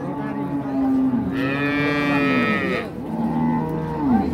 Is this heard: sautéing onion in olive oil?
no